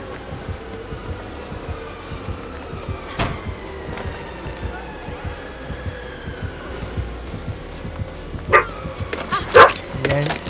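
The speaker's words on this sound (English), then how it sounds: "I hear my dog's fucking barking at me." A pet dog barks and yips in a room several times, louder toward the end, over a quiet game soundtrack.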